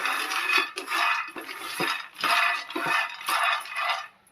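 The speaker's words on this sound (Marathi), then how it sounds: "गॅस बंद करते मी आणि शेंगदाणे एका प्लेटमध्ये काढून थंड करून घेते." Roasted peanuts tumble off a pan onto a plate in several bursts, a close, dry rattling clatter of many small nuts with short pauses between pours.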